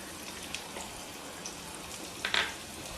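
Tamarind squeezed and dissolved in water by hand in a home kitchen while making kovakkai gravy, giving soft wet squishing and sloshing under a steady hiss, with a brief louder splash near the end.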